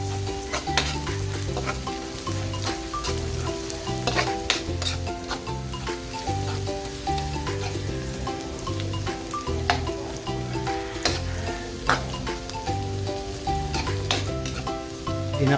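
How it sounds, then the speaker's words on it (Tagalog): Garlic sautés in a hot pan for beef kangkong, a steady close sizzle and crackle of frying broken by repeated stirring scrapes, with no talking. "Gisa-gisa muna tayo."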